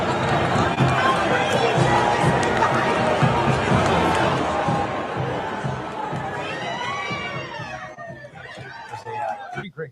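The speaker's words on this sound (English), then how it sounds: "Listen to the cheers." A large rally crowd cheers loudly for President Donald Trump, a dense roar of shouting and chatter that stays steady, then thins in the last seconds with scattered whistles and calls.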